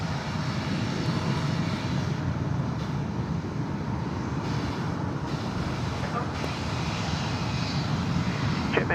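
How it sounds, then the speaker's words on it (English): A Western Global jet flies directly overhead at LAX, its loud, steady engine roar filling the whole stretch with a broad, continuous rumble. "We do have that Western Global Queen flying directly above me here"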